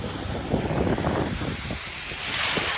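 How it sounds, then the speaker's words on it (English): Ocean waves wash in over a shell-strewn beach, a steady broadband rush of surf and wind that holds even and fairly loud throughout, with no talk. "Here comes the waves."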